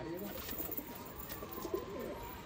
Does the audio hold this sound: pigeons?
yes